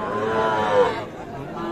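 Cattle at the Ambari calf market in Parbatipur, Dinajpur, where small calves and young bulls are bought and sold, give a single loud, close drawn-out moo over faint crowd chatter.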